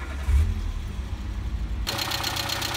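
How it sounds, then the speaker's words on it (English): A Peugeot 205 car engine cranks and fires, with a low rumble that shifts into a steady, brighter idle running close by, no talking. "Now start your engine."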